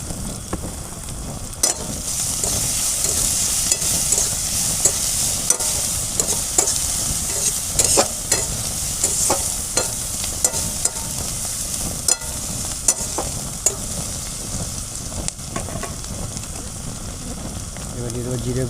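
Onion, crushed ginger and garlic with cardamom and cumin frying loudly in a pan for a duck egg curry, a steady bright sizzle broken by repeated scraping stirs and clinks throughout, close up with no talking.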